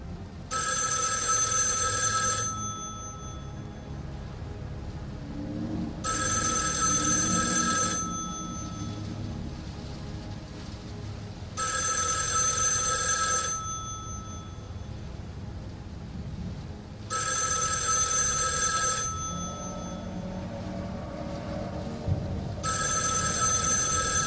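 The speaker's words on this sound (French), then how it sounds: "le téléphone sonne." A telephone bell rings in regular bursts, five times across about 24 seconds, in David Lynch's Rabbits, over a low, steady ambient hum.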